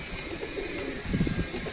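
Low, soft pigeon coos murmur close by in a quiet space, with a fuller burst of cooing near the end.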